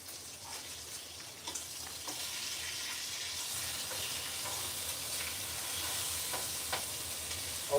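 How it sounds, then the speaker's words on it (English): Bacon sizzling and hissing steadily in a frying pan as it is flipped, with a few soft scrapes and pops and no voices. "I'm flipping this bacon over now."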